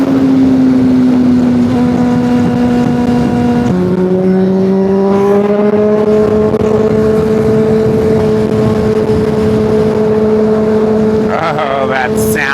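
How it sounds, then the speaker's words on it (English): A super sport motorcycle roars through a tunnel, its engine loud and close with a sustained droning wail that shifts pitch as it changes gear and accelerates, echoing off the walls. "Oh, that sound as we went through the tunnel. It's just deafening, the sound of our motorcycle in the best way possible."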